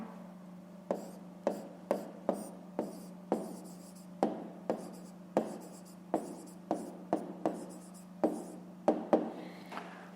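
Pen or chalk writing by hand while working a fifth-grade math exercise, a close series of quick, sharp taps and short scratchy strokes in an uneven rhythm over a faint steady hum.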